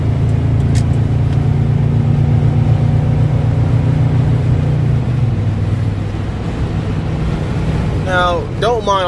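Constant wind rush pours through the partly open sunroof of a moving 1997 Chevrolet Silverado, mixed with a low engine drone; a brief voice-like sound rises at the very end.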